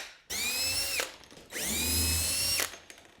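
Battery-powered drill driving screws, two loud close whirring runs of about a second each with a rising pitch, separated by a short pause.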